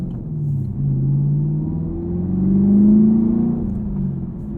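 A sports car's exhaust rumbles deep and steady as it accelerates, the low drone swelling in pitch and loudness before easing back.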